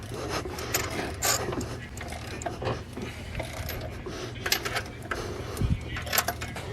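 A ratchet wrench clicks in short bursts while spark plugs come out of a car engine in a garage, the mechanical ratcheting close and moderately loud amid workshop clatter.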